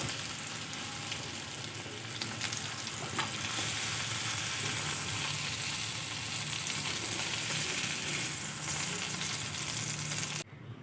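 Okra sizzles steadily in hot oil in a pan while being cooked for a potato, okra and egg dish; a dense, even frying hiss runs close and loud throughout, then cuts off abruptly near the end.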